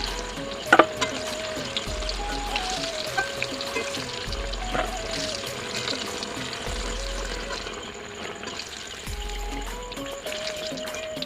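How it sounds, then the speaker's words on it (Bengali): Pieces of pointed gourd (potol) fry in hot oil, giving a steady close sizzle with a few sharp pops and occasional stirring scrapes, no voices. "পটলটা একটু তেলে ভালো করে ভাজতে হবে"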